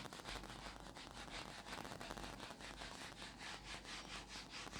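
Writing being rubbed off a board in a lecture setting: a continuous rhythmic back-and-forth scrubbing, fairly soft but steady throughout, no talking.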